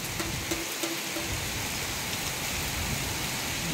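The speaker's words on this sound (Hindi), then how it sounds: "हेवी वर्षा आज है कि" Heavy rain pouring steadily, a dense wash of hiss filling the whole scene with no pauses or voices.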